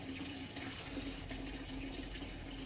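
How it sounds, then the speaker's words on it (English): Walbro 525 electric fuel pump rapidly pumping fuel into a container, a steady loud gushing rush of liquid with a constant hum, heard alone and close throughout. "This Walbro 525 is just pumping."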